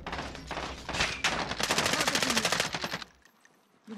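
Automatic gunfire rips through a first-person shooter match, with loud rapid bursts close by for about three seconds before dropping away into quiet.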